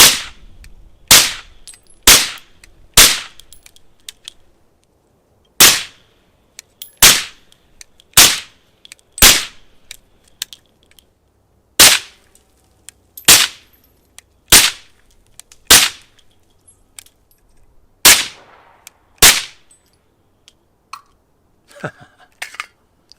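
A suppressed Ruger-57 pistol with a short barrel firing 5.7 ammunition delivers around sixteen sharp, loud cracks in uneven strings, some in quick pairs and others after short pauses, with quiet range background between.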